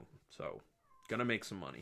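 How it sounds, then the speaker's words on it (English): A cat yowls loudly in two drawn-out meows, close by, with someone speaking briefly before them. "Sorry if you hear my cat yelling in the background."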